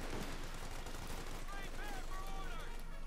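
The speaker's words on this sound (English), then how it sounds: "light machine guns blazing out there from between the windows" Light machine gun fire in a Company of Heroes 2 battle, steady crackling bursts under a continuous busy game soundscape, with chirping tonal effects midway and a commentator's voice mixed in.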